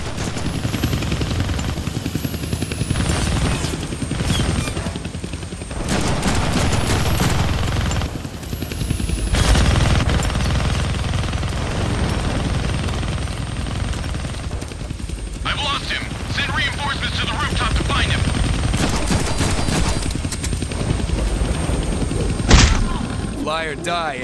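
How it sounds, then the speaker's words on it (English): Minigun fire in the Deadpool video game on PS5, a dense sustained roar of rapid automatic shots mixed with game music, effects and voices talking throughout. "You're gonna need both hands to shoot that minigun."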